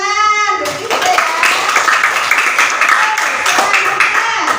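Children in a classroom clap their hands together in a lively burst of applause that starts right after a teacher's short prompt and keeps going steadily, loud and close.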